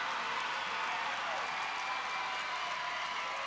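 Crowd at a volleyball state championship match roaring and cheering continuously, a dense, loud wash of voices and applause with no breaks.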